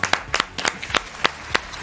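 Scattered hand claps from a small French television studio audience, roughly eight separate sharp claps in a loose, uneven rhythm, close and fairly loud with no talking.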